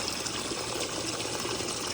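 Water rushes and trickles steadily through the plumbing of a handmade center-console boat's live well, a faint, continuous splashing flow with no talk.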